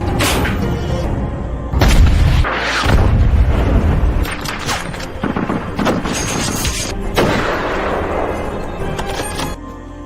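Heavy booms of artillery fire and explosions from a war film crash repeatedly over several seconds, loud and close, with irregular blasts and rumbling debris between them.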